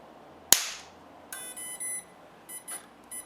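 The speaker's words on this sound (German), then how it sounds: "Nicht erschrecken, es knallt ein bisschen, ich habe kein Anti-Blitz-System." One sharp, loud electrical spark pop cracks out as a battery is plugged into an Optipower Ultra-Guard 430 with no anti-spark system, followed by a series of short electronic beeps and tones.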